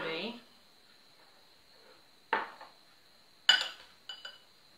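A bowl, a metal sieve and a spoon are handled while preparing a flaxseed hair mask, giving a few sharp clinks and taps separated by quiet pauses, with a faint steady whine in the background.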